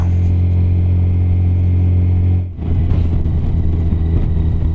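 A Yamaha FJR1300 motorcycle ridden out of a park near Moab, Utah, its engine humming steadily and loudly up close, then dipping briefly and picking back up with a rougher rumble as the rider shifts; no talking.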